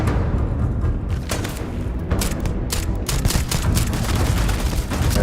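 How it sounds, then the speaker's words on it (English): A dense shootout in the space game Starfield: continuous bursts of automatic gunfire and sharp shots, with occasional heavier booms, loud and close without pause. "A nice old-fashioned shootout."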